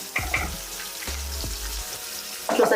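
Chili fries in a pan for a sandwich snack, giving a soft watery sizzle broken by a few brief thumps and clatters, with a louder crackling burst at the very end.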